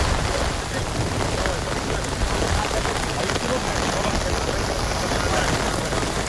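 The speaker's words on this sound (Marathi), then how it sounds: "पिकांचं नुकसान आणि पाऊस पण सुरू झाला." Steady, dense rain pours down over damaged crop fields in Vadgaon near Bhor, a loud continuous hiss of drops on surfaces, with voices talking underneath.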